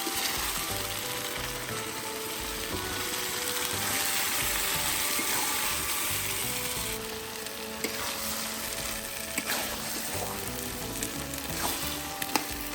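Banana flower and boiled mung dal are stirred into sautéed masala with a little turmeric in a pan, producing a continuous bright frying sizzle with scraping, clicking stirs that grow sparser toward the end, close and without speech.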